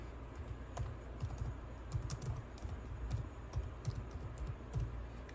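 Soft, rapid keystrokes as a username is typed on a Lenovo S340 laptop keyboard, a quiet, close run of clicks without speech.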